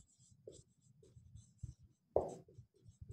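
Pen or chalk writing during a Class 11 set theory maths lesson, heard as a series of short, fairly close scratchy strokes, one louder stroke standing out, with no talking.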